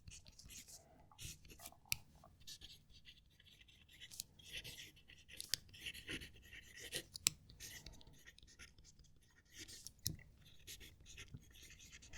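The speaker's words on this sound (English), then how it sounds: "I'm going to write a sentence." A fountain pen nib scratches softly across paper in short, faint strokes and taps, close-up and quiet, with a few brief clicks between strokes.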